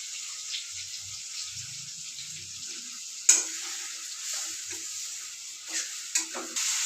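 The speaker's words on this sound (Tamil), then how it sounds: "பூண்டு தக்காளி வெங்காயம் எல்லாம் வதங்குது" Onion, tomato, garlic and curry leaves fry in a pan for an elephant yam kootu, giving a steady close sizzle with a few sharp spoon knocks from stirring, no voices.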